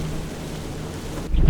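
Rain beginning to fall in a stormy night scene of an animated horror story, a steady dense hiss that swells into a heavier low rumble near the end, with no voices.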